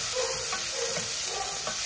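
Onion and green chilli frying in oil in a pressure cooker, a steady loud sizzle with soft stirring scrapes throughout a short stretch.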